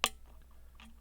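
A tiny sharp click from a pin being set while picking a Japanese Takigen T-999 lock, one crisp close snap followed by a faint softer tick, quiet and isolated.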